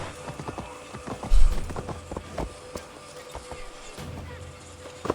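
Horse hooves clop in Assassin's Creed Valhalla, a run of irregular, fairly close thuds with one heavier stomp, over a low game ambience.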